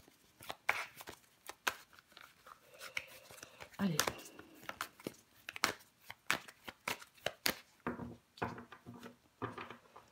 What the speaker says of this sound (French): Allez, on va recouvrir des cartes.